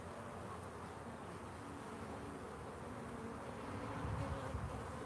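Honeybees buzz in a steady, dense drone during a live hive inspection, close and continuous, swelling slightly louder near the end with no talking.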